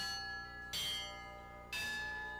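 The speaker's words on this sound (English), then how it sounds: "Assume to ring a bell at the church is just by pulling one rope and one bell" Church bell rung by pulling a rope, two loud clangs about a second apart, each leaving a long ringing hum that lingers between strikes.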